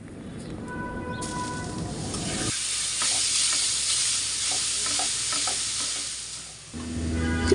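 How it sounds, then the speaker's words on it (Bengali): Cinnamon, cardamom and chopped nuts frying in ghee give a loud, close sizzle. A lighter crackle runs underneath at first, then a strong continuous hiss of frying with stirring takes over and fades slightly near the end. "এখানে আমি প্রথমে দারচিনি আর এলাচি দিয়ে দিলাম দুটো আর কিছু বাদাম কুচি দিয়ে দিলাম খুব সুন্দর করে ভাজতে হবে"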